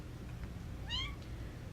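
A cat gives a single short, faint meow against an indoor background hum, alone without talking.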